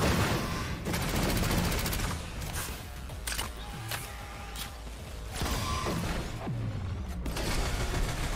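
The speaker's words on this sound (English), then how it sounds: "Looks like a pillar is slowly getting destroyed." A stone pillar crumbles under repeated blows in an online video game, a dense run of rapid crackling, creaking impacts and mechanical clatter with bursts like gunfire, steady and loud throughout with no talk.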